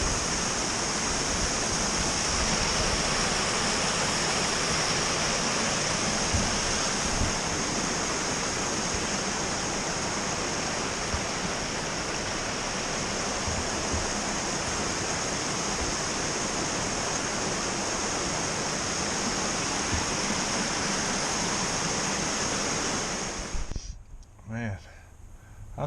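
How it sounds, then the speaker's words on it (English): Comer Creek Falls, a waterfall beside the Appalachian Trail, roars with a steady, loud, close rush of falling water that runs unbroken and then cuts off near the end, with a voice faint beneath it. "There's the Comer Creek Falls."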